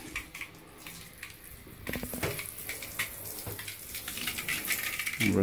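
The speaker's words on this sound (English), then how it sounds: "I just rinse it off." Water splashing and running as an enamel bathtub is rinsed after scrubbing with cleaner, a steady close wash with knocks and clatters against the tub, growing fuller toward the end.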